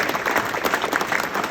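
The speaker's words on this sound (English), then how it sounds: "so can we have a round of applause for them?" A crowd at the Cheshire High School 2024 Hall of Fame breaks into brief, lively applause, a quick burst of many hands clapping close by.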